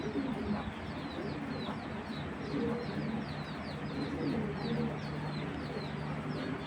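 A large Giribaz pigeon cooing softly among other birds, with low repeated coos and background chirps, fairly faint and continuous, with no talk.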